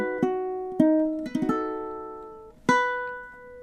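Ukulele playing the finale of a song, a few plucked and strummed chords ringing out with long sustain, close and clear, with no voices.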